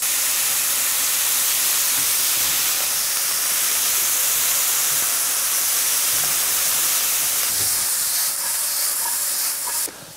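Butter sizzling and browning in a hot frying pan for a pan sauce, a steady broadband hiss that holds loud and unbroken throughout, with no talk over it.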